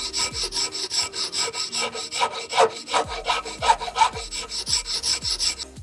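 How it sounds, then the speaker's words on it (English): Steady back-and-forth strokes of a file or sandpaper on a wooden tree-fork slingshot, close up. The rhythmic scraping repeats about twice per second with no voices. "Let's move on to filing and sanding."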